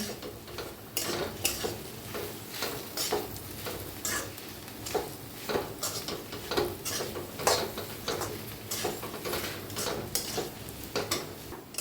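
Okra roasts in spice masala in a pan while a utensil stirs it, giving steady scraping and tapping strokes in an uneven rhythm over a low, continuous sizzle close by.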